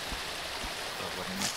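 Minecraft fountain water flows in a soft, steady rushing stream, faint and continuous, with a short low murmur of a voice underneath.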